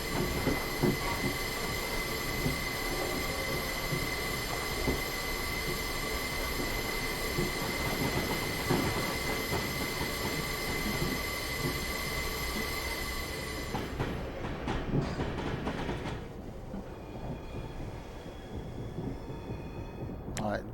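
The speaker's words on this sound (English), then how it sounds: "Alongside a freight train." Freight train passing alongside the player's Class 450 train on the Portsmouth Direct Line near Woking in Train Simulator 2021, with loud sustained rumble and ringing wheel squeal that cuts off abruptly near the end, leaving quieter rolling noise.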